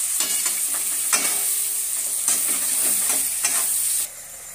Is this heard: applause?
no